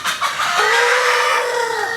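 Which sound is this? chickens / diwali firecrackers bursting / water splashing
chickens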